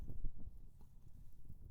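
Hooves of a ridden horse clip-clop in a steady, even rhythm during loping pattern work, close and clear over a low rumble.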